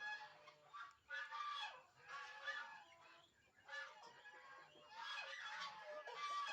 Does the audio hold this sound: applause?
no